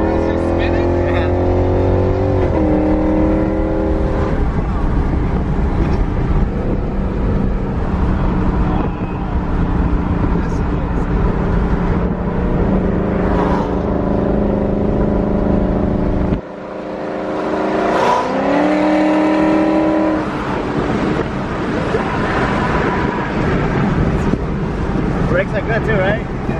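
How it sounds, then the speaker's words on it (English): A 400-wheel-horsepower Lexus IS F accelerates hard with its rear wheels spinning, its engine roaring loudly and continuously. The roar briefly dips before building again, and voices can be heard inside the car. "Are the rear wheels just spinning?"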